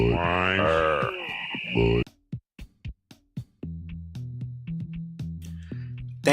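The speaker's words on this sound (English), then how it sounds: "Thank you, GX000, for redeeming the Budweiser frogs." The Budweiser frogs croak in a playful, rhythmic sequence used as a stream alert: a tonal voiced call opens the clip, followed by a run of short separate clicks and then repeated low croaks, loud and close.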